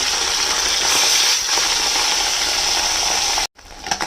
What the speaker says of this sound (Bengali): এতে সর্ষের তেল দিয়েছি তেলটা গরম হয়ে গেছে এবারে মাছগুলোকে আগে একটুখানি ভেজে নেব